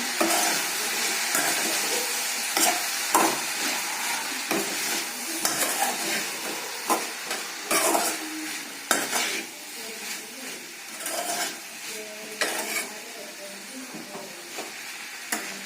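A spoon stirs onions frying with turmeric and salt in a pan for a potato and ridge gourd dish, giving a constant sizzle broken by irregular scraping and clinking strokes against the pan.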